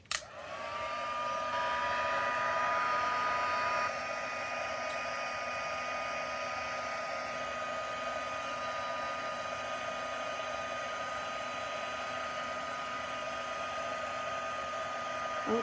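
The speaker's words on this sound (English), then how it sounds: "I'm going to get my heat gun out." Heat gun blowing steadily to dry a paper craft pillow treat box, a loud continuous whooshing roar close by that starts abruptly and holds constant for about fifteen seconds, with no talking.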